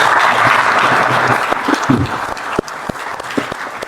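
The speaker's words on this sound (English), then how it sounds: "Give Nate a big round of applause" Audience applause at a live podcast recording, loud and dense at first, then thinning into scattered individual claps near the end.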